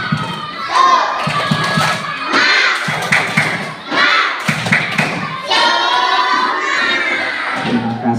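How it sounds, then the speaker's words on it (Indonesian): A class of young schoolchildren performs a spirit clap, with groups of loud rhythmic claps and thumps broken up by energetic shouting voices close by. "Oke, tepuk semangat."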